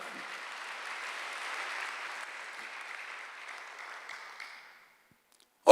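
Congregation at a Sunday church service applauding together, a dense, steady wash of many hands clapping that thins out and fades to silence near the end.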